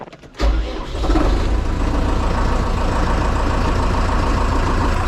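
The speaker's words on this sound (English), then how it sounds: "Starting the tractor is pretty easy after being plugged in all night" A tractor engine that was plugged in overnight cranks and fires on a near-zero-degree snowy morning, catching quickly and settling into a loud, steady idle close by.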